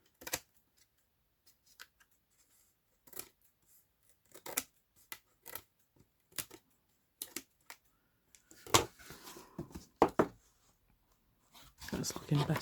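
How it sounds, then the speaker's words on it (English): Scissors trim the paper edges of a junk journal, quiet close snips in scattered irregular clusters with pauses between them. "And then I'm just going to trim those edges off. Trim them back as far as I can."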